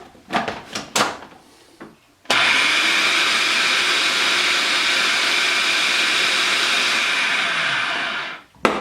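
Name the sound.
food processor grinding caramelized onion hummus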